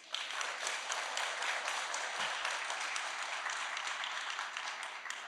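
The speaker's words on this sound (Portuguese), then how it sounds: "Uma salva de palmas" An audience at a tribute panel honoring professor and philosopher Olavo de Carvalho applauds steadily throughout, dense sustained clapping with no talk over it.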